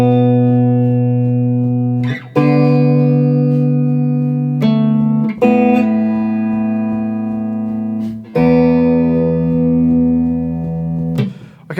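Guitar playing the verse of a song, sustained chords changing every couple of seconds with sharp attacks, loud and close, ringing alone without voices.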